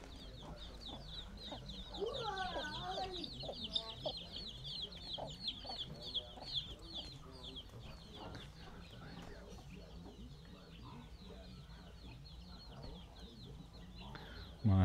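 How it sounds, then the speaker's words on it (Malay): Chickens kept around a village house in Bintan cluck and chatter continuously at moderate distance, with overlapping calls and a persistent background hum throughout. "Ada ayam."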